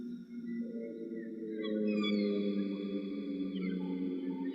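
Airplane engine drone with heavy reverb, steady layered tones that swell and shift in pitch, sustained and fairly close with no talking.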